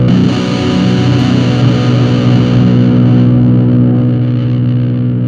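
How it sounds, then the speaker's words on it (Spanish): Rocktron Silver Dragon guitar amplifier playing on its tube distortion alone, a thick, saturated distorted guitar sustaining loud and steady for several seconds, with chords ringing and slowly decaying. "Esta es la distorsión a válvulas sola."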